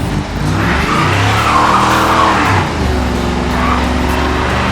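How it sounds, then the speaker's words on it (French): A car in the BeamNG driving game skids with a continuous loud tire squeal and engine drone that swell and fade over several seconds, heard alone without talking. "Et tu vois, elle tourne un tout petit peu. Elle dérape."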